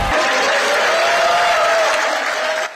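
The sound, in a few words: applause and cheering at Democratic Party election camp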